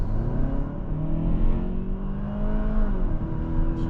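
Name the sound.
2024 Kia K5 GT accelerating at full throttle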